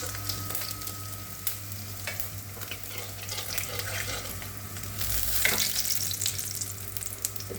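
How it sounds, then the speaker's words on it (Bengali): Kajli fish fry in hot oil in a pan, giving a continuous close sizzle with scattered spits and stirring scrapes. The sizzle swells briefly past the middle, and no one speaks. "এখানে মাছগুলো ভাজা হয়ে গেছে প্রায়"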